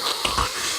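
A wet, snotty snort with wheezy, breathy texture, close and continuous for under a second with no talking.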